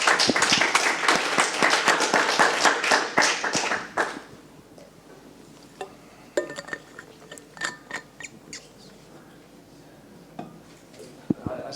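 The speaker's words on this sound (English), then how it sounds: "they're clapping, so maybe it's time to also wrap up here, right?" An audience claps at the end of an academic talk on blockchain and de-risking: dense, loud applause for about four seconds, then thinning to scattered individual claps and quiet room noise.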